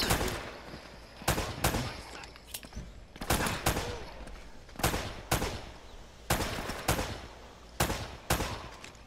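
Gunfire from the video game Uncharted: Drake's Fortune, sharp loud shots in irregular bursts and single cracks spread across the clip, with brief gaps between volleys.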